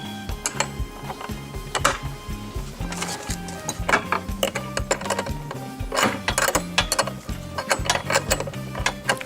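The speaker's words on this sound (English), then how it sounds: "go in the back and take a wrench and just tighten them up" A wrench tightens the bolts on a solid brass gate handle, making close, repeated ratcheting clicks in uneven bursts that continue throughout with no talking.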